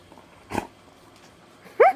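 A pet dog named Pato gives a short bark-like burst, then after a pause a brief whining, whimpering sound, both quick and close, indoors at home.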